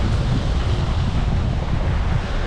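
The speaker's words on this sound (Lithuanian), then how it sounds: "Vėjuota." Strong wind blows across a seashore during shore fishing, a steady, loud roar buffeting the microphone with the broad wash of surf beneath, and no voices.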